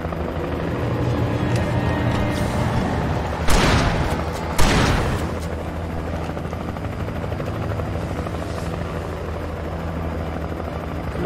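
Steady helicopter rotor drone throughout in Alan Wake Remastered, with two sharp booming bursts like gunfire or explosions partway through.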